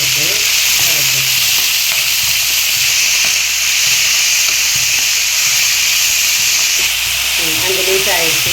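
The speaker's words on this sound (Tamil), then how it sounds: "கொஞ்சம் சீக்கிரம் வதங்கிறதுக்காண்டி கல் போட்டு வதக்கணும்." Tomatoes sauté with salt in hot oil for a pepper tomato chutney, throwing out a loud, continuous close sizzle with intermittent stirring scrapes, while a voice talks over it at moments.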